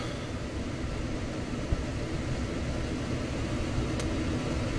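A car drives along the road, a steady engine and tyre hum close and even for a few seconds with no speech.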